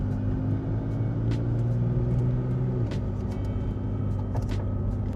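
A third-generation Toyota Tacoma fitted with an HPS Performance intake drives casually, a steady low engine rumble and road noise heard from inside the cab, with a few faint clicks and no talking.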